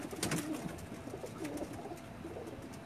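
Pigeon cooing close by in soft, repeated low coos, with no talk over it.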